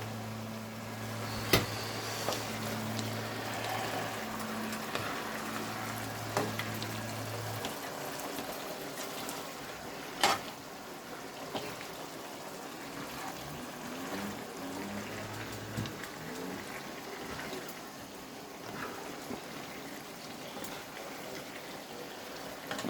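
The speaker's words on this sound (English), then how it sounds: "Shut the water up in the back." Water running from a kitchen tap while pasta and broccoli cook, a soft continuous splashing stream under a steady hum that cuts off partway, with faint kitchen clatter.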